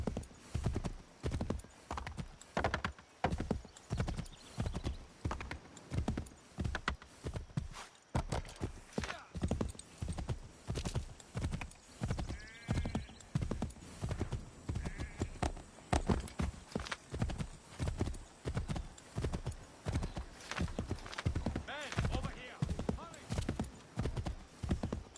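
A horse gallops through a town in the video game Assassin's Creed 3, hoofbeats drumming in a fast, steady rhythm throughout, with an occasional whinny.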